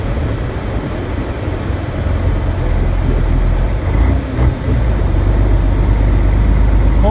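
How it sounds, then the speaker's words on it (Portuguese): Heard from inside the closed cab, a Fiat FNM truck engine gives a continuous low, muffled rumble, steady and fairly loud, with no one talking. "Como eu gosto de ouvir o ronco do caminhão, mas com os vidros fechados, ele escuta bem pouco."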